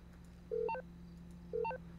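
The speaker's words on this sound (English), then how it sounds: "I'm gonna dial." Two short telephone keypad dialing tones sound about a second apart, clear and electronic over a faint steady hum.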